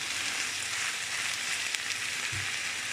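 Ground beef mince frying in a pan, a steady broadband sizzle with no pauses, close and fairly loud, with a faint low thump near the end.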